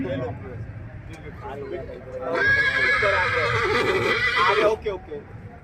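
At a horse market, a horse lets out a loud, drawn-out whinny close by, with hoof clops and the noise of the crowd around it and someone talking over the sound.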